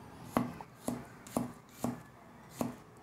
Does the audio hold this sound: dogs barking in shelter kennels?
no